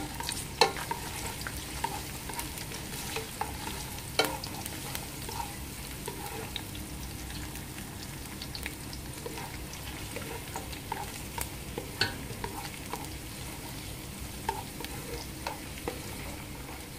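Garlic sizzles quietly in a pan with a constant soft hiss, while occasional light clicks and scrapes of a utensil break through at irregular intervals.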